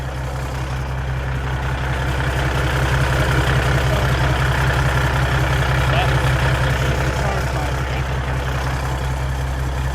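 A pulling truck engine idling, fitted with a large turbo, a loud, close, steady low rumble holding even throughout.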